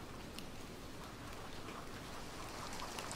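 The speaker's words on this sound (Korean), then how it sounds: "너랑 만날 때마다 비 와." Steady rain falls throughout, a dense, even hiss of drops spattering on surfaces, with no voices over it.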